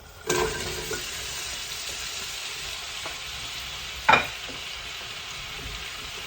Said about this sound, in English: Now to this we're going to go ahead and add our sliced onions.